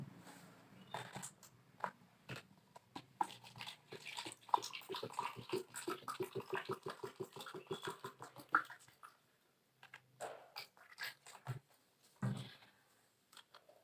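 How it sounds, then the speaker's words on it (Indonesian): Water poured into a plastic cup, a close trickling splash rising in a quick rhythmic series of glugs, then a few faint drips and handling knocks. "Kita isi dengan air."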